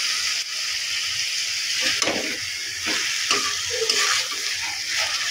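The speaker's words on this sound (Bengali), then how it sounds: "এবার আদা রসুনের গন্ধ আর টমেটো যতক্ষণ না গলে যাচ্ছে ততক্ষণ ভেজে নেব" Ground ginger-garlic-cumin paste with tomato and salt fries in a pan under a loud, constant sizzle, broken by repeated scraping strokes of a spatula stirring the mixture.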